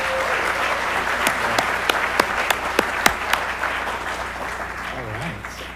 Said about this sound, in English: let's give our faculty and staff another round of applause